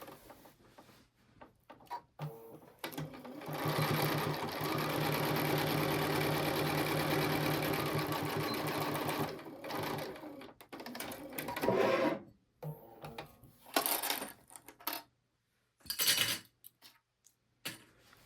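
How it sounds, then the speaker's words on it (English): A sewing machine stitches down the side of a small quilted oven mitt, a fast steady whirring run of needle strokes for several seconds, then short stop-start bursts and pauses, close and clear with no talking. "I'm going to flip it and stitch down this side."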